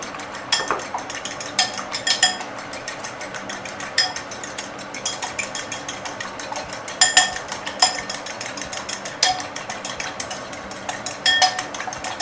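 A fork scrapes and clinks against a bowl while beating egg and cheese together for spaghetti carbonara, a steady run of close, busy metallic taps and scrapes with no talking.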